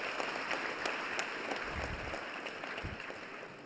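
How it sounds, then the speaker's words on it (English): Audience applause at a health sector event in 2023, a dense, fairly quiet wash of clapping that holds steady and slowly fades. "let's also give them a round of applause again"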